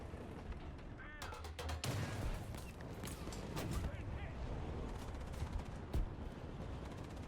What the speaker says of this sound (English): Ooh, hello, you're shooting at me.